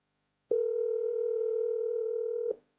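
An unanswered phone call gives a single steady electronic ringing tone that lasts about two seconds and then cuts off, heard alone in silence.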